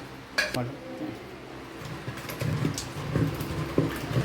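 Food is mashed in a new pot, with metal clinks and scraping knocks from a utensil against the pot, close and irregular. Bursts of talk run over the sounds.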